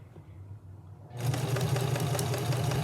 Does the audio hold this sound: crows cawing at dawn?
no